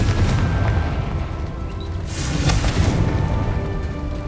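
A Confringo spell explosion bursts in the Hogwarts Legacy video game, a loud boom with crackling debris over a rumbling, busy game soundscape, with no voices.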